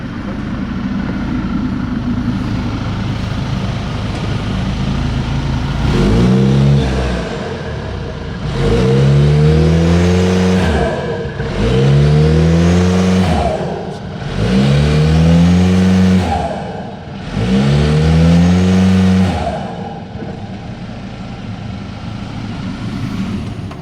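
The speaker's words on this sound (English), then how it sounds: "you can hear the turbo when I'm in sport mode" A car engine revs hard in repeated bursts, about four surging pulls after an idle stretch, loud and close with a whooshing turbo edge on each rise.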